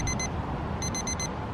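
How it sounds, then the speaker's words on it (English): A kitchen timer alarm goes off while pasta cooks at a beach campsite, sounding two quick beeps, a short pause, then four more rapid beeps, loud and close over a soft background hiss. "the alarm's going off"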